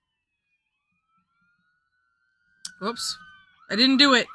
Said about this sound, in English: I don't know if you can hear those sirens outside.